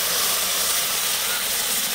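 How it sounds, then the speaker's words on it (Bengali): Water poured into spice paste of turmeric and chili powder frying in a hot pan for a snakehead fish curry, giving a loud, steady, close steam hiss and sizzle throughout. "দিয়ে মশলাটাকে ভালোভাবে কষে নিতে হবে।"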